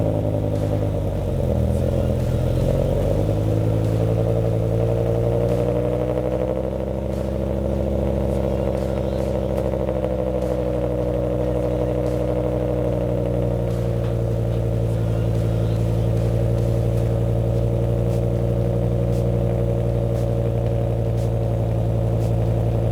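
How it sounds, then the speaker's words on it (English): A BMW M5 E60 fires up from cold and settles into a loud, steady high idle, its engine drone continuous and close with a brief rise in pitch at startup. "let's see how the cold start sounds in this"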